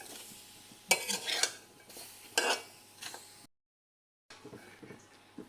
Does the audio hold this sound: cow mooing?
no